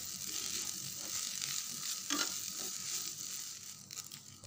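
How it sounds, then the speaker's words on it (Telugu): Egg pieces are stirred into rice frying in a pan: a steady sizzle with scraping, clicking spatula strokes against the pan, close and continuous, with no talk. "ఇప్పుడు ఎగ్ పీసెస్ని వేసుకుని రైస్లో బాగా కలుపుకుందాం."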